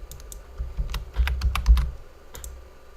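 Rapid clicking keystrokes on a computer keyboard, close and fairly quiet, a short burst of uneven taps with a brief pause before a final couple of presses.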